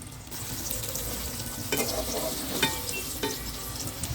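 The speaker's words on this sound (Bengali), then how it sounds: "এখন ওই তেলেই পনিরটাও ভেজে নেব" Paneer cubes sizzle in hot oil in a pot, already used to fry potatoes, for a vegetarian biryani; a steady close crackle runs throughout, punctuated by a few sharp stirring clinks, with no talking.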